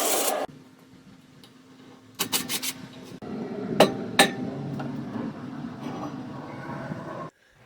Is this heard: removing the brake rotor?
yes